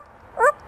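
A parrot imitates a dog's bark, giving a single short, clear yip-like call.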